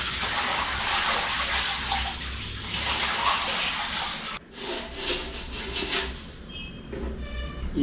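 Driftwood is dunked into aquarium water to soak, with close sloshing, splashing and pouring that ends in a few gentle drips and trickles.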